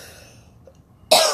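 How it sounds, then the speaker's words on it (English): A single short cough bursts out near the end, loud and close, after a stretch of near silence with faint background hiss. "Oh, and my cough is coming up again."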